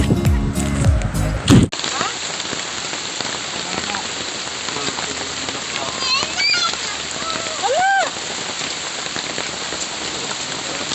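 Sudden heavy rain pours down in Maribojoc, Bohol, Philippines, starting abruptly after a brief moment of other sound and then holding as a dense, steady hiss of drops on surfaces, with faint voices now and then.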